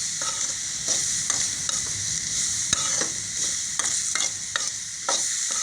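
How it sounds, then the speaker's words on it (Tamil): Coriander and curry leaves sauté in a pan, giving a steady soft sizzle broken by a regular rhythm of spoon strokes against the pan, with no talking. "கொத்தமல்லி கருவேப்பிலை சேர்ந்து ஒரு கைப்பிடி அளவு போட்டு வதக்கிக்கலாங்க"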